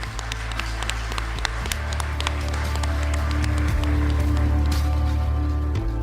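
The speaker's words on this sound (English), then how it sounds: "these guys deserve a very big round of applause" A studio audience gives a round of applause at the close of a podcast recording, with steady clapping over a low background hum that holds for the whole stretch.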